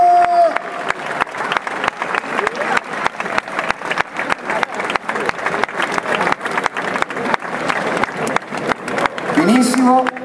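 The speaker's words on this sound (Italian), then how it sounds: "Facciamo un grande applauso all'Under 18!" Loud, sustained crowd applause with steady dense clapping and some cheering fills a rugby club's season presentation, honoring the Under 18 rugby team, with a voice rising briefly near the end.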